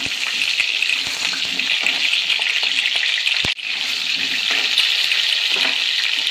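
Potatoes for aloo dum fry in a hot pan with a steady, loud sizzle that runs throughout, broken by a brief knock partway through.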